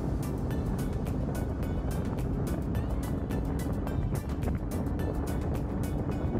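Motorcycle riding along a road: a steady, loud engine and wind rush with fast repeating ticks of rushing noise, continuous throughout.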